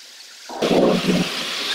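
Rain falls in a steady, dense hiss that swells in abruptly and continues at an even level.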